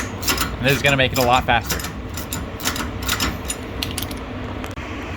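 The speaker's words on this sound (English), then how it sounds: "So once I broke all these loose, I take my stubby ratchet." A stubby ratchet loosens bolts on a boat trailer axle, rapid clicking bursts of the pawl in quick runs, heard close under a man's speech.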